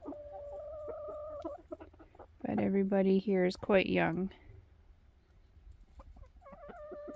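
Young home-raised hens in a farm coop in snowy weather cluck in short bursts, with one louder stretch of calls in the middle, while someone talks nearby.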